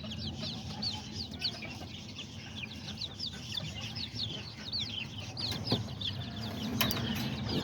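Kikiriki and Azteca chickens and roosters in an outdoor yard, a dense chorus of high chirps and clucks from many young birds, steady and fairly close, with occasional rattling noises underneath.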